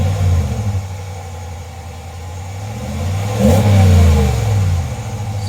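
A stock 5.7-liter V8 engine in a 2022 Ram truck idles with a low rumble, then revs up sharply around midway and settles back, heard close by without talk.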